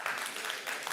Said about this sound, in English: Any applause?